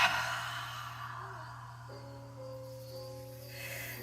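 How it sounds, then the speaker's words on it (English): A slow, open-mouthed exhale during a yoga flow, a soft breathy rush at the start that fades away, with gentle sustained music tones underneath. "Take a big breath in right here. Open your mouth and exhale."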